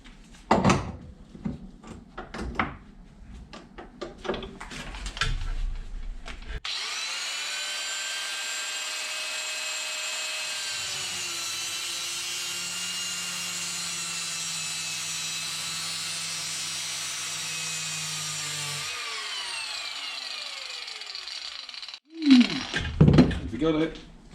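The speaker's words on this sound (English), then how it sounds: "this sounds like an ideal opportunity to cut the old actuator open and see what's going on inside" A cutting tool slices into an old TD04 turbo wastegate actuator from a Toyota Starlet in a steady, high-pitched whine lasting about twelve seconds, with clattering handling noises before and after.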